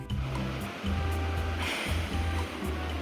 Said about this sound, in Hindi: पंखा चालू कर लें।